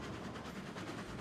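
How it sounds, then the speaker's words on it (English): A steam train chugs along in the Railroad Online video game, a dense continuous rumble with rhythmic clatter, steady and close. "This train is a little gutless."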